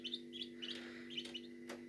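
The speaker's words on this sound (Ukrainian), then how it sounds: "І знов маленькі каченята." A brood of eight newly hatched ducklings peeps in quick, high, repeated chirps close by, with a steady low electrical hum running underneath.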